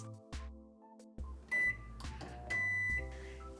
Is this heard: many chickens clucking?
no